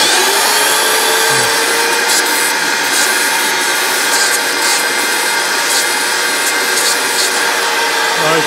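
A vacuum cleaner sucks up dust during an oil pressure switch replacement on a Smart Fortwo MHD W451 1.0 L, a loud, continuous close-up whine with intermittent rattling bursts as debris is drawn in.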